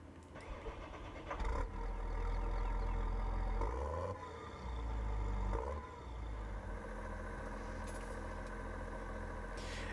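A large tractor engine in Farming Simulator 17 cranks and starts, then settles into a low, rumbling idle that wavers in pitch, loud and close with no talking.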